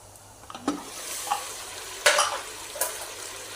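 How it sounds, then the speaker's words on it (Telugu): Telangana-style goat head curry frying in oil, with a steady low sizzle broken by a few sharp scrapes and clinks of a spoon stirring the pot. "నూనెలా వేగనివ్వాలి"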